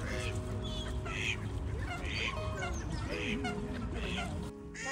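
Waterfowl calls from around a lake frozen to the bottom on a minus five degree day in London, repeated honking and quacking squawks that sit close and clear over a steady outdoor hiss with no talking.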